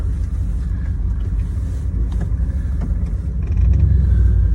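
A Triumph Stag with a 3-litre V8 drives along, its steady low engine rumble and road noise filling the cabin and swelling louder near the end, with no talk over it.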